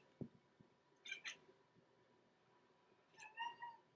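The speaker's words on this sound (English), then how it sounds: "What are you meowing at?" A cat lets out two short meows about two seconds apart, fairly close and moderately loud, with a faint knock near the start and a quiet background between calls.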